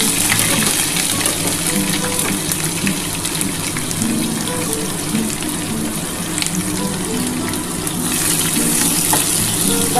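Two chopped onions go into hot oil with already fried garlic for chicken posto, giving a loud, steady sizzle with stirring scrapes throughout and no one speaking.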